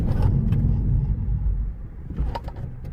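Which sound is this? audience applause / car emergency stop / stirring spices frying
car emergency stop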